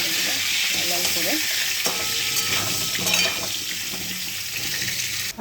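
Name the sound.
large potato pieces frying in pan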